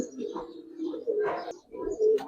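Coloring pigeons cooing in low, repeated throaty bursts close by, while someone talks over them.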